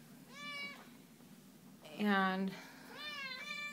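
Cats kept in cages alongside rabbits meow repeatedly: three distinct, drawn-out meows, the middle one loudest and lowest, heard near and over a steady low hum, with one short spoken word.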